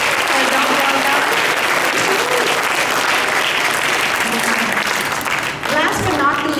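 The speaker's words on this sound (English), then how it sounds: "If you want to give them a big round of applause for a job well done." An audience at a church Christmas Eve Sunday School play applauds the children, steady, dense clapping filling the room for several seconds, with a few voices faintly mixed in.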